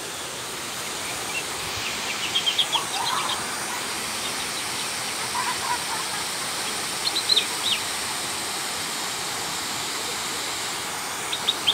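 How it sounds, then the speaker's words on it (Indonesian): A river flows through the ancient Gadung volcano area of Kebumen toward Pantai Ayah, giving a steady, even rush of water, while small birds chirp faintly and briefly a few times in the background. "sungai ini mengalir dari jejak gunung purba Gadung, kemudian mengalir bermuara di Pantai Ayah."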